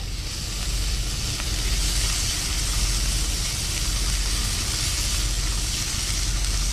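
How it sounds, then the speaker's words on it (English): Sausage frying on a cheap electric hot plate inside a truck cab, giving a steady, even sizzle that stays close and constant throughout with no talking. "All right, frying up our sausage."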